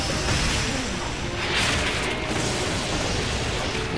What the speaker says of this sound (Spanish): Estaba en forma hielo y le ha pegado un cañonazo de fuego y acaba con Muruk